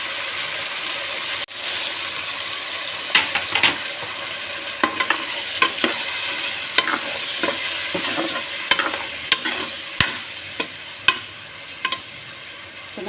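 A spoon stirs ground masala through vegetable pilaf in a hot pan, giving a soft steady sizzle broken by sharp scraping clinks against the metal, with no voices.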